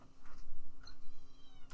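Cat meowing at an open window, a few short meows close by with a quiet steady background hum and no talking.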